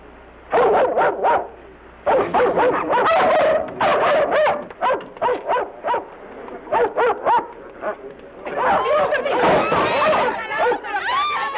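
A dog barks and yips in rapid bursts, loud and close, mixed with excited vocal chatter in a lively indoor scene from a film.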